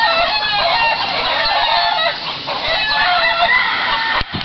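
A flock of chickens clucks and cackles densely and close by, with a rooster crowing among them, a busy, continuous farmyard chorus.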